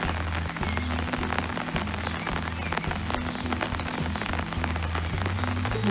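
Rain falls steadily on a vegetable garden in July, a dense continuous patter of drops with faint low tones underneath and no voices.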